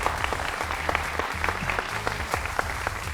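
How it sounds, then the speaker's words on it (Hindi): A studio audience at a televised political debate show claps loudly to welcome a guest, a dense continuous round of applause with music or tones underneath and no talking. "जोरदार तालियों के साथ स्वागत कीजिए"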